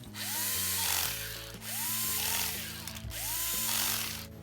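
A power screwdriver drives screws into the bumper of an RC car during a rear-wheel-drive conversion, with three whirring bursts that rise in pitch and pause briefly between them, heard up close with no talk.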